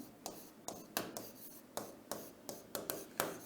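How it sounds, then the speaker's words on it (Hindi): Chalk or marker strokes on a classroom board as a teacher writes a single word, a series of short scratchy bursts in an uneven rhythm, close and fairly quiet with no talk. "मैं लिखता हूं पॉसिबिलिटी।"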